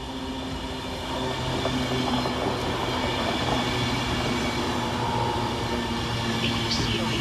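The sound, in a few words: Avanti West Coast Class 390 train passing through station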